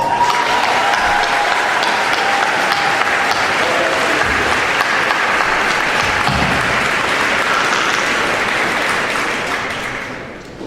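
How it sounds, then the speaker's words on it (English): Sustained applause from a large audience at a Martin Luther King Jr. convocation, steady and loud for about ten seconds before tapering off at the end. "can we get another round of applause?"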